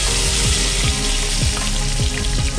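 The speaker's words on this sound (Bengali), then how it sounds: "এবার আলুটাকে লাল করে ভেজে নিলাম।" Large potato pieces fry in hot oil in a home kitchen, giving a loud, steady sizzle that is broken by a few soft stirring or bubbling bumps at irregular intervals.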